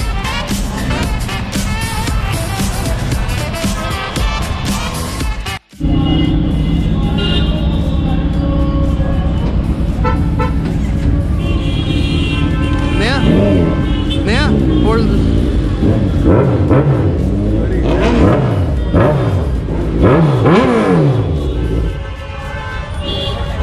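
Loud superbikes on a street in Karol Bagh: a heavy engine roar fills the scene, with a brief cut near the start and rising and falling revs in the second half. People talk throughout.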